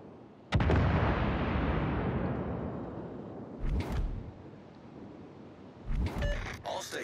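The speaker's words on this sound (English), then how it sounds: "Concentrate fire on the enemy warship." Naval artillery fire at an enemy warship in a video game: one huge close blast with a long rolling rumble, followed by further booms and whooshing shell sounds, loud and alone.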